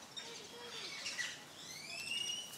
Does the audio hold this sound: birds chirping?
yes